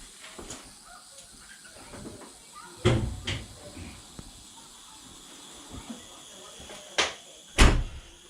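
On a Triumph Dolomite, the passenger door is opened and the bonnet released, giving a few sharp clunks and latch thuds separated by quiet pauses, close by with faint background hiss.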